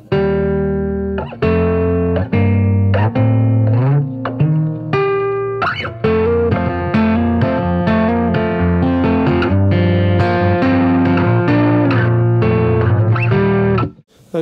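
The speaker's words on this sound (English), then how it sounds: "So the first pedal I turn on is my EQ pedal." Electric guitar strummed through an EQ pedal in a pedalboard chain, sustained chords ringing loud and continuous with dense harmonic tones, a brief pause near the start and a sudden cutoff at the end.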